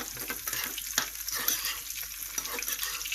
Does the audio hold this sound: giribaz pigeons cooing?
no